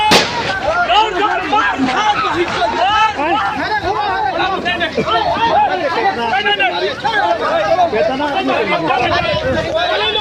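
Police fire shots into the air in self-defence during a village land dispute, sharp reports scattered through a loud, dense crowd of shouting and chatter that continues throughout.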